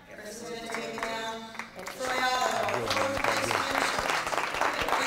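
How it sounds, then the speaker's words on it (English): A studio audience at a poker championship breaks into applause for a fourth-place finisher, quieter at first then swelling to a full, steady clapping roar, with a presenter talking over it. "A big round of applause for Troy Otto"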